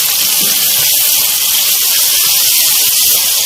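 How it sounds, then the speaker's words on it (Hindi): Chopped onions, green chillies and finely cut tomatoes fry in a pan for a chicken curry, giving a steady, loud sizzling hiss that runs unbroken throughout without any voices. "हरी मिर्चों को हमें प्याज के साथ फ्राई करना है। और साथ में मैं इसके शामिल कर रही हूँ टमाटर।"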